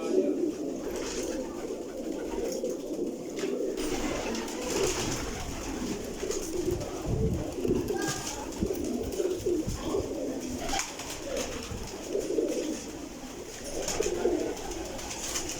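Pigeons coo softly and repeatedly over a steady bed of outdoor noise and low murmuring, the calls blending into a continuous background.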